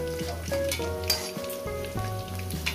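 Potatoes frying in hot oil in a home kitchen, a soft continuous sizzle sitting beneath prominent melodic background music.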